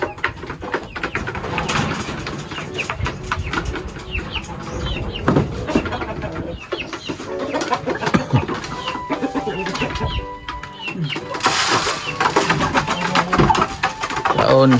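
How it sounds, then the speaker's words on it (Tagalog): Chickens clucking and squawking all around amid a busy gamefowl farmyard, with an engine humming and people talking at intervals. "Farm ng manok"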